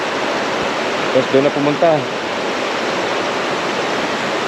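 River water rushes in a steady, loud broadband hiss close by, while someone speaks briefly over the flow.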